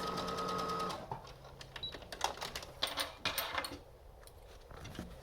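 A sewing machine stitching the layers of a cloth face mask, right sides together, running in short irregular bursts with clicks and rattles between quieter pauses.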